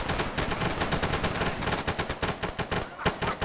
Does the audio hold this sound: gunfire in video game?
yes